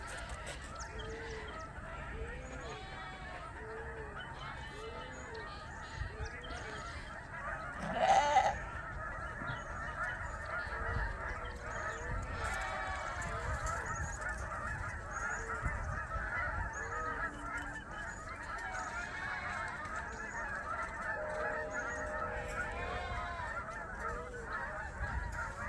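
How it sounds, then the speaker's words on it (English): Canada geese honk repeatedly on a farm, a loose chorus of calls at moderate distance over steady outdoor background noise, with one louder burst of honking partway through. "can hear the Canada geese are really active these days"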